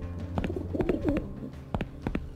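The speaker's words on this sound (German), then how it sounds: "Das sind alles Tauben." Pigeons in the video game Randal's Monday coo in soft, low, rolling calls, repeated a few times over a light background of ambient game sound.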